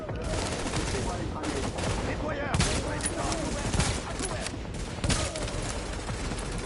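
Dense gunfire rattles through a squad firefight in The Division, with rapid bursts and overlapping shots continuing throughout, loud and close, while voices talk underneath.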